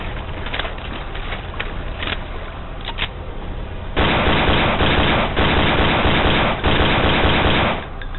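Sustained automatic gunfire from a gun emptied into an enemy in the survival horror game Cry of Fear, a dense continuous burst of rapid shots that swells louder halfway through, with scattered single cracks before it.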